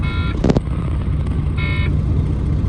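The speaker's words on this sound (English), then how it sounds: "Start the engine." A truck's engine starts during a CDL pretrip inspection in the cab, a short cranking burst amid electronic warning beeps over a steady low rumble, loud and close.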